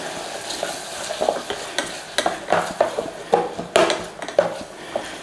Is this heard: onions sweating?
yes